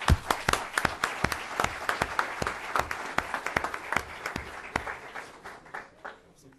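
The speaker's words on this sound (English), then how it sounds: "A round of applause" An audience applauds a panel with dense, steady clapping that holds for several seconds, then thins out and fades toward the end.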